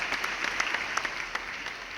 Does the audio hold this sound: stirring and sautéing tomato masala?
no